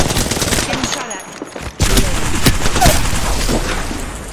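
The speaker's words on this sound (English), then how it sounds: "Getting shot at." Gunfire in the Apex Legends video game rattles in rapid, dense bursts, with overlapping shots and a sharp impact near the middle, loud throughout with brief dips between volleys.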